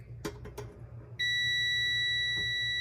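A multimeter set to continuity gives a steady, loud high-pitched tone as its probes touch an oven heating element, following a few soft clicks from handling the leads.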